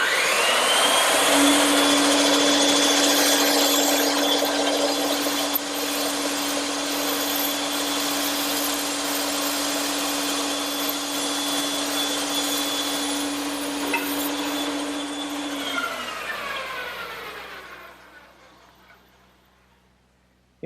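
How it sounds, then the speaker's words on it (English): A bandsaw fitted with a 1/4 inch blade cutting curved pieces of wood for an Adirondack chair, a loud steady whine with a strong hum running about fifteen seconds before the motor spins down and fades. "take it over to the bandsaw, and cut out the curved portions, using a 1/4 inch blade set up in the saw"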